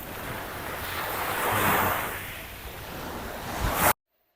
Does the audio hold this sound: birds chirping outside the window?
no